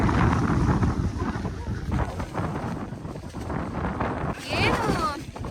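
Strong wind buffets the microphone in gusts on a hilltop at Lohagad Fort amid rain, a loud roaring rush throughout, with a brief whistling sweep near the end.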